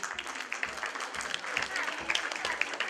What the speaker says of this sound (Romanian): Aplauze pentru bărdăreni